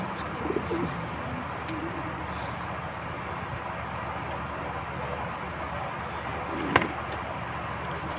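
Rescued pigeons coo softly in the background over a constant noisy hiss, with a brief sharp knock near the end and no voices.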